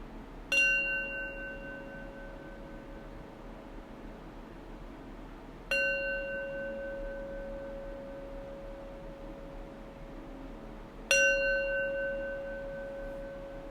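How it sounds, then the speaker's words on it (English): Three evenly spaced strikes of a meditation bell, each a clean ringing tone that lingers and fades slowly over a faint room hiss, with no talking. "I'll close practice with 3 rings of the bell."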